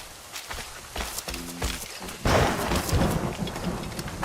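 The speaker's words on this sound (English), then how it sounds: "The storm's getting worse." Thunder rumbles and steady rain falls in an Assassin's Creed Rogue thunderstorm, with footsteps nearby before a louder crack of thunder swells over the downpour.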